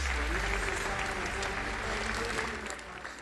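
Applause from an audience at a Turkish school event, a steady wash of many hands clapping that holds evenly and eases slightly toward the end, with faint crowd noise beneath.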